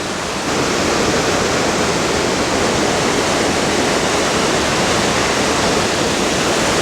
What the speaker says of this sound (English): And there's the second viewing platform to get a closer look. The double falls.